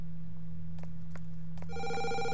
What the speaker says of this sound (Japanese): 奴から電話が来るんじゃない。